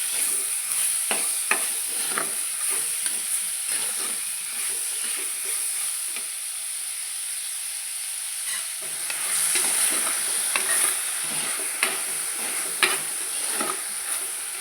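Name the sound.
stirring raw prawns frying with onions in a pan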